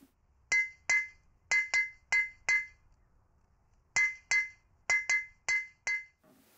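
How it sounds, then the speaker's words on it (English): Ringing blows of a blacksmith's hammer on metal, clear and close, in two bursts of quick blows with short pauses between them, each hit leaving a bright ring. "It is the music I make with my hammer"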